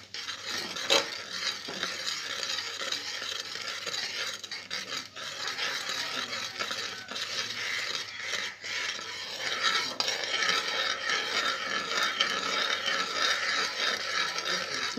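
A spoon scrapes and stirs steadily through boiling kheer in a pot over a village cooking fire, a continuous rough rasp with bubbling texture, fairly close and unbroken by talk.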